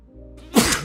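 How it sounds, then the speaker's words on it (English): A single sharp sneeze bursts out close to the mic after a moment of quiet room tone, loud and brief. "I was trying to mute the mic before I had to sneeze and I didn't make it"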